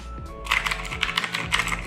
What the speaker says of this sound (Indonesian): ini dia Tecware Phantom RGB Mechanical Keyboard